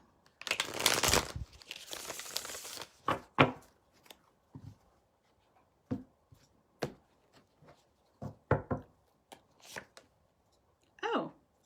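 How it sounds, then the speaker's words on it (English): Stiff tarot cards riffle and snap in quick casino-shuffle bursts, followed by scattered soft taps and flicks as they are handled up close. "One more casino shuffle."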